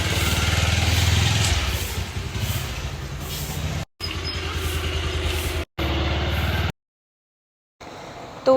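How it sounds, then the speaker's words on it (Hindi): A motorbike ride carries a steady, loud engine drone with wind rush, interrupted by a few abrupt cuts to silence. "उनके साथ बाइक पे बैठ के सबसे पहले उसको एक चक्कर लगवाते हैं"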